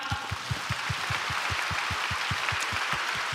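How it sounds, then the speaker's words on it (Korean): Clapping from a church congregation at a Bible recitation contest, a steady rhythmic beat of unison claps at a quick, even pace, fairly loud and close over a wash of background noise. "공정한 심사해 주실 우리 6분께 박수 부탁드릴게요."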